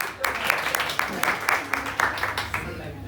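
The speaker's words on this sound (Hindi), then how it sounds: "तालियां एक बार" An audience at a birthday celebration claps in a steady, rhythmic beat, sharp hand claps repeating quickly over a background of voices.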